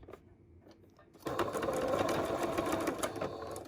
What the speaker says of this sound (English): Make some return stitches, and when you get over the elastic, do not forget to do some like double stitches